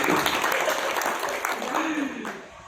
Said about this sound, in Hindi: पहले ताली बजाइए, उसके बाद उत्तर मिलेगा।